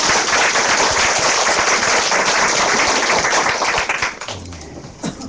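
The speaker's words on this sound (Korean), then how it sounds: "괜찮으시면 박수 한번" Applause from a crowd at a Korean presidential campaign event announcing an English education pledge, dense sustained clapping filling most of the clip before thinning out near the end.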